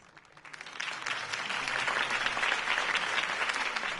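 Crowd applause bursts out after a campaign speech in a Batman video game, swelling quickly from a quiet start into a dense, steady roar of many hands that holds for several seconds.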